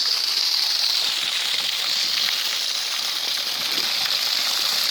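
Stream water gushes steadily on Ilkley Moor, a continuous bright rushing hiss that stays close and even throughout, with no voices over it.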